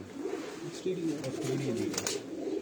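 Shy old pigeons of a cumin-coloured breed coo softly in a low, continuous murmur, several birds overlapping at close range with faint background noise.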